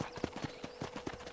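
Horse hooves clip-clop in a steady walking rhythm while riding in Red Dead Redemption, close and fairly loud, with evenly spaced thuds and no voices.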